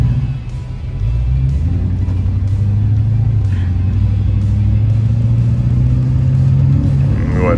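A 2002 Chevy 2500HD Duramax diesel truck pulls hard under acceleration, a loud, steady engine rumble rising in pitch and holding throughout, heard from inside the cab with some faint talk.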